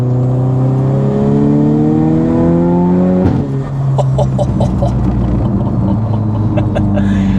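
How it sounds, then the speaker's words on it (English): A Volkswagen Mk6 Golf R engine with a big turbo, tuned to 538 bhp, revs hard, its pitch climbing in rising harmonic sweeps with a high turbo whine on top, then drops and climbs again as it accelerates. "Turbo is like louder than the exhaust. It's that humming."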